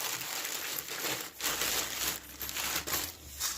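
Plastic shopping bags crinkle and rustle in a continuous close-up stream of crackling, with brief louder crunches as they are handled, no voices over it.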